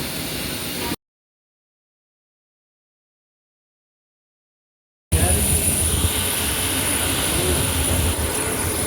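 An Air India airplane landing at Bangalore produces a loud, steady broadband jet roar with a high whine, broken by a gap of silence, heard close from inside the cabin.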